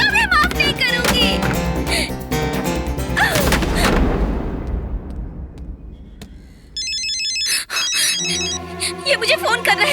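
A telephone rings in a dramatic Hindi-dubbed movie scene, with a repeated electronic trill pattern after loud music and a crashing burst, and voices talk around it.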